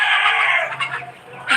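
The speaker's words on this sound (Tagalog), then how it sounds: "Dito kami oh, sobrang daming manok dito." Dense chicken clucking with rooster crowing, from a crowded flock on a farm with very many chickens, loud and close with overlapping calls.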